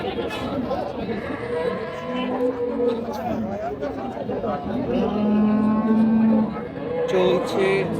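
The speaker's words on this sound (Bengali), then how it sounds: "শান্ত আছে গরু শান্ত আছে" At a crowded village cattle market, a dairy cow gives a drawn-out moo midway through, heard over a steady background of chattering buyers and nearby talk.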